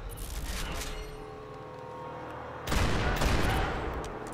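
Gunfire in the video game Max Payne 3 crackles in bursts, with a quieter stretch of scattered shots giving way to a sudden heavy, dense barrage of rapid fire that continues to the end.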